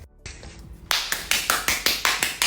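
Slow, deliberate hand claps ring out one after another, about eight evenly spaced sharp claps following a couple of softer taps, close and clear with no voices.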